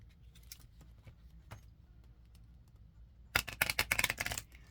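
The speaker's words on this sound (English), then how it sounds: "If I just shuffle and let them hit on the corners, that's a lot easier." Oversized tarot cards riffle-shuffled with edges tapping together, a burst of dense crisp flicking that arrives after a few seconds of near quiet with faint scattered clicks, close and moderately loud.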